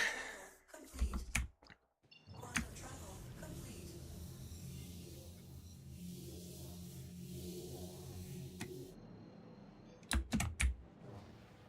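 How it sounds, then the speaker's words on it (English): Computer keyboard clicking and clacking during a gaming session, a fairly steady run of keystrokes close by, with brief louder bursts and some breathing at the start and end. "I do apologize if the clickety-clacking of the keyboard gets annoying"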